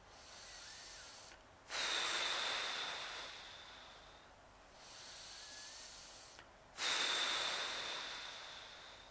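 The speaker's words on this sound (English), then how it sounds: "Inhale, exhale from your mouth." A person doing a yoga breathing exercise, drawing air in and blowing it out through the mouth, two long close breathy cycles, each opening with a sharp forceful exhale that slowly tapers off.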